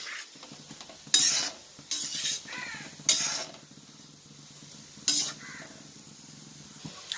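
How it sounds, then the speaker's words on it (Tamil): Gulab jamun frying in oil in a kitchen pan, with a soft steady sizzle under a few sharp scraping, clinking strokes of a utensil turning the balls. "குலோப் ஜாமுன் பொரிக்கும் போது கொஞ்சம் திருப்பி விடணும்"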